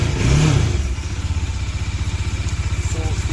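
Bajaj Dominar 400 motorcycle engine fires up with a brief rev, then settles into a steady, close, thumping idle with a regular low pulse.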